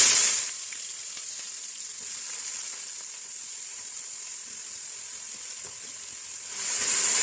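Sliced onions frying over high heat in very hot oil for mutton korma, a loud continuous hissing sizzle that swells at the start and end.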